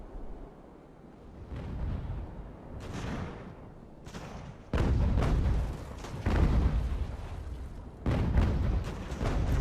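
Heavy naval cannon broadsides in the age-of-sail game Ultimate Admiral: Age of Sail, a run of loud booming blasts at close range, several sharp volleys landing a second or two apart over a continuous rumble of battle.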